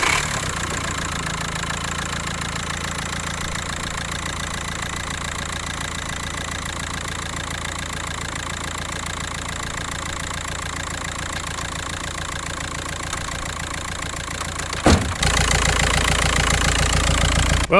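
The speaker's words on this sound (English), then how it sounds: "With the battery hooked up, I'm gonna see if it'll crank." A race car engine runs at a loud, close, steady idle with an even mechanical throb, then shifts abruptly to a harsher, louder running note near the end.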